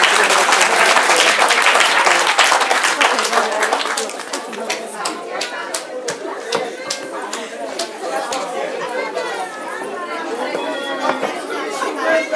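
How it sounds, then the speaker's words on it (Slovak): A crowd at an outdoor Roma Day 2024 celebration in Liptovský Mikuláš claps loudly and densely for several seconds. The applause then thins into scattered claps under lively crowd chatter and voices. "Ďakujem vám, že ste prišli potleskom podporiť vašich blízkych."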